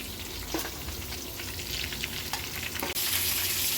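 Chicken pieces fry in hot oil with a continuous close crackling sizzle and occasional stirring clicks, rising louder toward the end, no talking.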